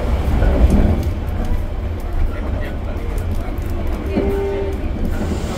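The Malabar passenger train runs along the rails with a constant rumbling roar, heard from on board, with a short tonal squeal partway through and a voice talking over the noise.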